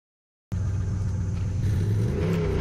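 A turbocharged 1UZ V8 in a Lexus LS400 drift car roars on a track during its first warm-up run, starting abruptly from silence into a loud, sustained rumbling drone with rising revs near the end, no talking.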